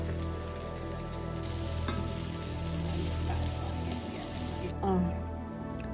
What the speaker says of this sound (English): Frying them in the deer fat.